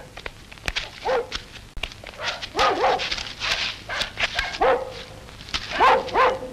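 A dog barks several times in a Vietnamese war film scene, sharp repeated yelps of moderate loudness spread across the moment, with rustling and movement around it and no talk.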